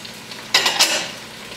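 Bacon for brisket chili hits a hot pan with a sudden loud sizzle and a couple of stirring scrapes, quickly settling into a softer, steady frying hiss up close.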